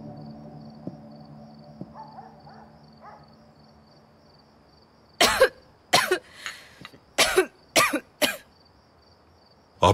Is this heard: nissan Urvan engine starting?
no